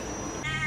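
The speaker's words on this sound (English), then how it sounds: "This cat wants to go in." A cat meows to be let inside, one short, close, fairly loud cry at night outdoors in Koh Chang.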